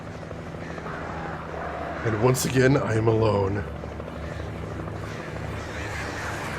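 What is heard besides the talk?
helicopter flying in video game Alan Wake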